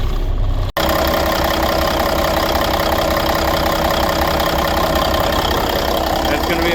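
A 1992 International 9200i truck with an N14 diesel engine runs at a steady, loud idle with a rough, knocking low rumble after a brief cutoff at the start.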